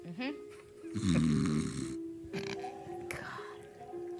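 A person imitates a companion's snoring with throaty, rasping snorts, close to the mic. The snores come as breathy bursts amid some talk during a tabletop role-playing session.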